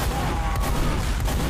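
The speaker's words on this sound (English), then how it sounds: "All these explosions." Dense, continuous battle noise from the Team Fortress 2 video game, with explosions and gunfire blending into a loud, rumbling wash without distinct individual shots.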